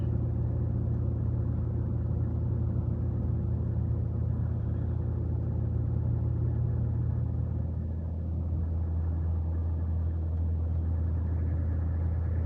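A truck cruising at about fifty on a slippery, hilly highway in the Kemerovo hills gives off a steady, unbroken low engine and road rumble that fills the whole stretch with no voices.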